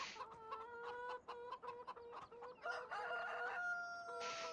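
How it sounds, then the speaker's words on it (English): A rooster in Farming Simulator 17 clucks in a quick series of short calls, then gives a longer crow, followed by another call. The sounds are faint and somewhat distant over quiet farm ambience. "Cock-a-doodle-doo."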